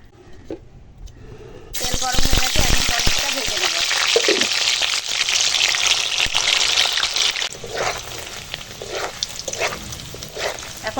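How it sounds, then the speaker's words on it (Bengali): Paneer pieces fry in oil in a pan, a loud, busy sizzle that starts abruptly after a quiet moment and carries on with stirring clatter and crackle, and a voice talks over it at times. "এবার পনিরটাকে ভেজে নেব"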